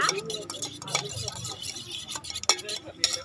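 A mixture beaten until fine in a bowl produces quick, uneven scraping strokes with sharp clinks of the utensil against the container, close and moderately loud.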